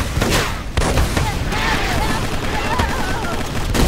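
Gunfire in the Microvolts shooter game, a steady stream of rapid shots running throughout the clip at a fairly loud level, with a short quiet gap near the start.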